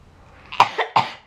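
A person coughs three times in quick succession, close and fairly loud, in a short, uneven burst with quiet before and after.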